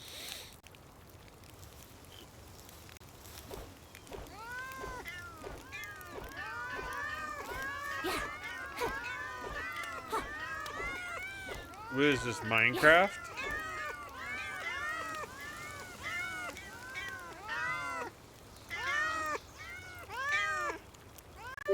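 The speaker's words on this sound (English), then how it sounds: "These cats sound like they're from Minecraft." Cats meow repeatedly from the Meow Mir, a Terraria crossover ranged weapon in the video game Palworld. Many short, rising meows come in quick succession, with a person talking over them.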